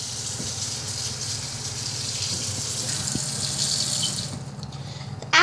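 Steady rushing of cold water pouring from a tap, continuous and close, cutting off abruptly near the end.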